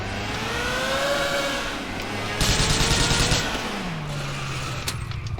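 Rapid automatic gunfire in the video game GTA 4, a dense burst of shots lasting about a second amid engine whine and traffic noise, with a few sharp single cracks afterward.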